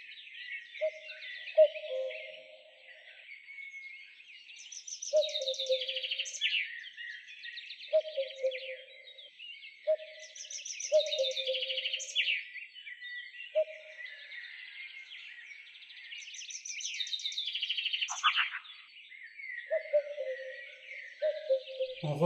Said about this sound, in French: Excité au point de chanter des coucoucous.